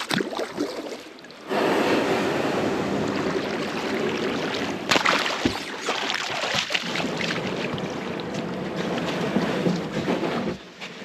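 A kayak paddles through waves on a long-distance fundraising paddle, with a steady rush of churning water, splashes and wash close by, and occasional sharper slaps.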